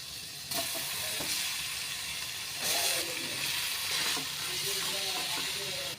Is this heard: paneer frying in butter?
yes